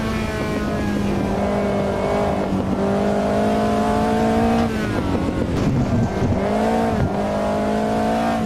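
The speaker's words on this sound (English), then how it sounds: "That didn't sound healthy on the gearbox, whatever that was." Race car engine in the Automobilista 2 racing game, a steady high revving drone with shifting pitch and a rough, unhealthy gearbox clatter and grinding near the middle, loud and continuous with no talk.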